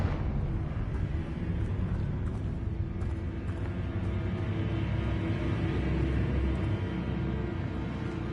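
Fiery Confringo spell explosion in Hogwarts Legacy, a sustained loud roaring rumble of fire and debris, dense and continuous without speech.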